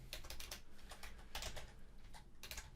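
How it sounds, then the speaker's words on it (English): Quick typing on a computer keyboard while entering text into a Microsoft Word document, a fast run of light clicky keystrokes in uneven clusters, close and quiet, with no talk. "Now we type in some text here."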